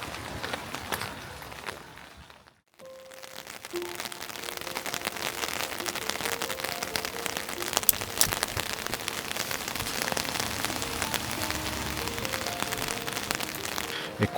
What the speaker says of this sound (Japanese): 雪降ってると思ったら全然雨でした。